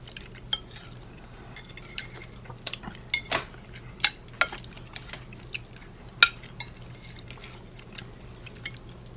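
Metal spoon scraping and clinking inside an MRE pouch while scooping potatoes, scattered sharp taps and scrapes over a low steady hum, close and fairly quiet.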